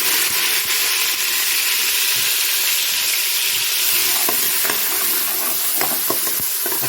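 Whole spices fry in hot oil for an aloo gosht curry, producing a loud, continuous bright sizzle with occasional sharp crackles and pops, with no talking.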